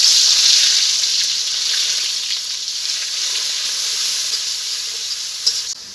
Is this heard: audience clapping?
no